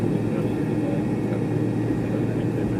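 Cabin hum inside an American Airlines MD-80 Super 80 airliner taxiing to the gate on its final flight, a steady low engine drone with faint background voices.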